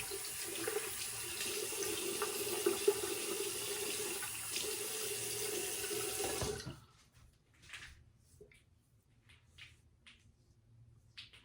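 Water runs steadily from a bathroom sink tap for about six seconds while a face is wetted before shaving, then cuts off, leaving faint drips and small splashes.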